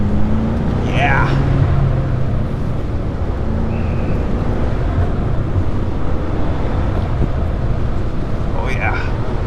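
BMW F10 M5 on a first drive, its engine droning steadily from inside the cabin with wind and road roar throughout, while occupants talk over it.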